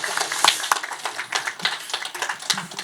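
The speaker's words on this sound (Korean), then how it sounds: "박수 한번." Brief clapping from an audience at a Korean proptech conference talk show, a loose scattering of claps from a small group, close and fairly loud, lasting a few seconds.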